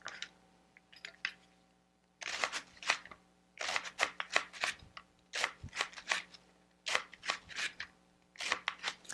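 A knife chops through cabbage on a board in quick, crisp bursts of close strokes, pausing briefly before resuming in rhythmic runs.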